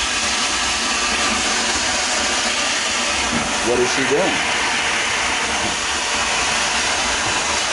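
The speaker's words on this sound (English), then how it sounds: "Here, I have a vacuum." A household vacuum cleaner runs loud and steady as a broad constant whooshing roar, with a voice speaking briefly over it.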